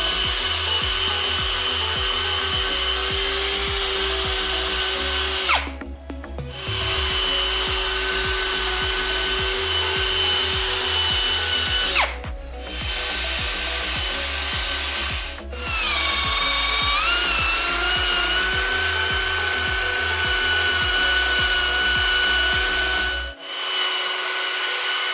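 A power tool grinds rust buildup off a curbed car wheel, running loud and steady with a few brief pauses, its whine shifting in pitch as it works against the metal.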